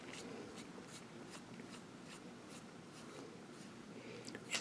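Barrel of a Parker Duofold Centennial Big Red fountain pen being unscrewed: faint, close, scratchy threaded friction with light ticking clicks in a quiet room, no voices.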